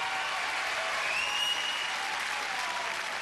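A crowd at the 1992 UK Gladiators final applauds and cheers, a dense, steady wash of clapping and shouting at even loudness throughout, with a faint whistle briefly audible within it.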